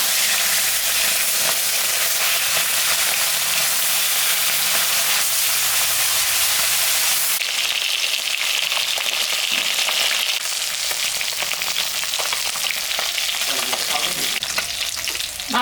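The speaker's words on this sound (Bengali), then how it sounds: "আমি এখন মাছটা ভাজবো।" Pieces of rohu and mrigal fish fry in hot oil with a loud, steady, dense sizzle that hisses close up throughout and rises brighter midway, with no talking.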